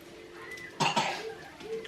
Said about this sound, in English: is having a little cough